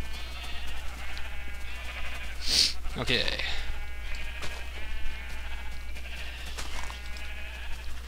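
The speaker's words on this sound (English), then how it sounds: "Come on, feed, eat!" A Minecraft sheep in the video game gives a short bleat partway through, over a steady electronic hum, while someone speaks briefly.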